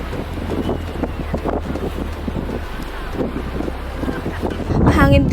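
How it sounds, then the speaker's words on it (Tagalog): Wind buffets a microphone on a breezy beach, a steady low rumble of gusts running throughout, with faint voices in the background and a louder blast near the end. "Mahangin din po talaga."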